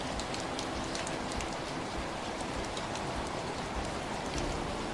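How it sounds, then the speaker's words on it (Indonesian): Steady rain falls in an animated series, a dense, even hiss of drops pattering on surfaces that continues without a break, with no voices over it. "kok hujan gini sih?"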